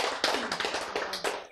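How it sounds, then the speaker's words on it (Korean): Audience applause breaks out in a Korean lecture hall, a short burst of clapping with sharp, rapid hand claps lasting just over a second, fairly close and loud, with no voices. "박수"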